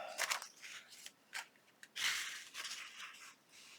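Thin faux glassine paper crinkling and creasing as it is folded by hand, a series of close, crisp rustles and crackles in short bursts with quiet gaps between, no talking.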